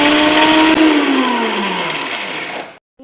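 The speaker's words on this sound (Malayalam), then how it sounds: "ഇനി നമുക്കിത് അരച്ചെടുക്കാം." A mixer grinder grinds spices for a Chettinad meat biryani, a loud steady whir whose pitch slowly drops over nearly three seconds before it cuts off into silence.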